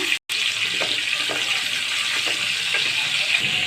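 Two large chopped onions hit hot oil in a pan for a tilapia curry, giving a steady, close sizzling hiss that runs the whole time after a short break at the start.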